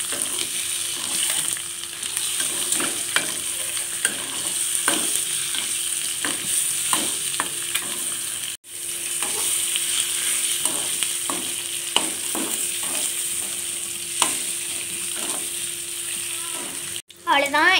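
Egg masala for egg biryani being stirred in a pan on the stove, continuous sizzling under repeated spoon scrapes and clicks, close and fairly loud, with brief pauses.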